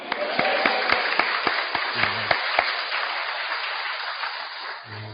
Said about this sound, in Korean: 우리 교우들 다 큰 소리로 아멘 하시고 환영의 박수를 쳐주시기 바랍니다